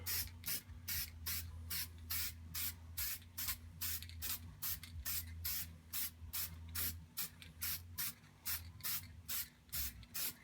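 A black spray paint can hisses in short, rhythmic bursts onto a painting's edges, repeated many times in a row, faint and close, over a low background hum.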